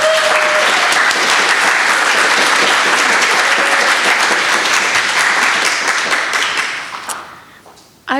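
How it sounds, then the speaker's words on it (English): A lecture-hall audience claps to welcome a poet to the stage at a university lecture series event, applause loud, dense and sustained for about seven seconds before fading out. "please join me in welcoming, with a big round of applause"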